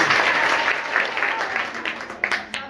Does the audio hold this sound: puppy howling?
no